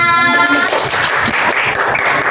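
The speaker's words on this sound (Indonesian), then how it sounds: "Nah, tepuk tangan." A classroom breaks into dense, loud applause, many hands clapping at once in a steady wash of sound that carries on for the whole moment.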